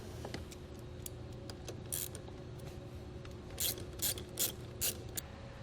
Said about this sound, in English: Then we can just go ahead and tighten it back down.